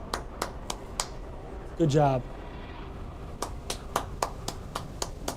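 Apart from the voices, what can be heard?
hand clapping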